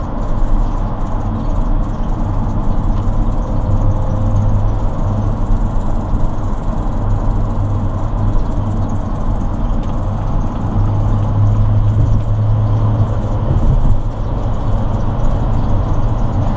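Cabin noise inside a 2011 Sprinter 144 high-roof cargo van cruising on the freeway: a loud, constant low engine drone and road rumble with steady wind hiss, unbroken and without talk.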